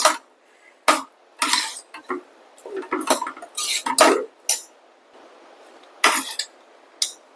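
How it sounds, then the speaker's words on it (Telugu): Cooked dal with drumstick leaves being mashed with a dal masher in a pot, heard as irregular bursts of clinking, knocking and scraping separated by short pauses, close and fairly loud, with no talking. "ఇప్పుడు కొంచెం పప్పు గుత్తితో దీన్ని మెదిపేసుకొని"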